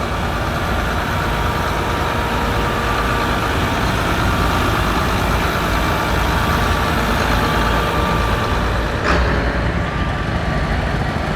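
A 1971 Farmall 220 antique tractor runs at a steady idle at an outdoor steam show, producing a loud, continuous low engine drone, with a brief sharp knock near the end.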